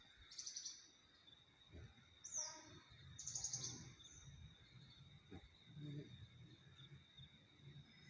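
Small kinoy songbirds chirp in short high bursts during a bird-trapping outing in Tanah Karo, moderately near, alternating with low rustling and murmured talk.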